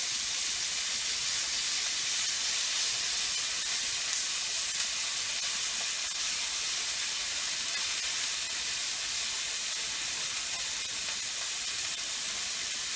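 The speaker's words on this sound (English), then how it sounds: "it says to cook the bacon first. It says until crisp" Bacon frying in a deep pan on medium heat, a steady dense sizzle and hiss running unbroken throughout, close and fairly loud.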